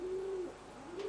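Tippler pigeons in a trap give a soft, low coo that wavers and trails off, close by in a quiet space.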